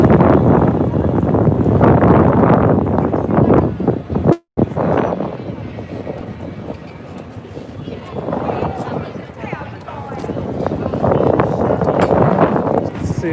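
Strong wind buffets the microphone outdoors at an inauguration gathering near the White House in Washington DC, a loud continuous rumble with a brief dropout, with someone talking throughout.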